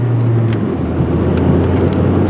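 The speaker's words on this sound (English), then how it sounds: "It shifts nice and smooth through the gears." Inside a 1998 Saturn SL with a manual gearbox while driving, a steady loud engine drone and road rumble run throughout, with no clear break for a gear change.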